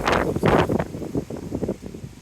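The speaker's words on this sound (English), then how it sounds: "Windy as hell." Gusty wind blows hard outdoors on a cold, sunny morning, buffeting the microphone in loud rumbling bursts that ease off toward the end, with no voices.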